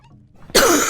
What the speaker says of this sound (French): Alors, pardon, je tousse.